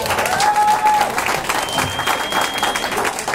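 A live audience claps steadily through the whole moment, applauding the performers who are about to play at a small music show.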